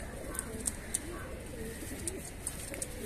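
Pigeons (highflier breed, kept at a pigeon seller's) coo softly in a low continuous murmur, with a few short sharp clicks and flutters scattered across the short stretch and no clear talk.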